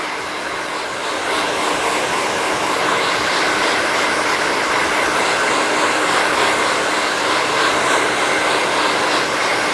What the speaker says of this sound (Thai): เป่าให้กระจาย เป่าให้กระจายนะคะ